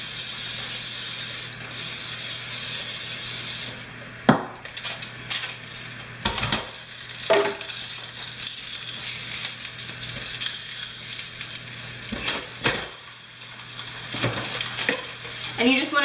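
Food sizzles on a grill coated with olive oil cooking spray, a steady frying hiss that runs throughout, broken by a few sharp clicks and knocks of utensils and handling.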